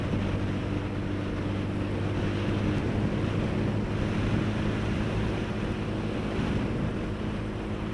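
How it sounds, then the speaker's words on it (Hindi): Wind buffets the microphone while riding a motorbike on an open road, a loud continuous rushing roar over the low drone of the engine. "हवा आ रही है ना, बाइक को ऐसे तैसे हो जाती है बाइक।"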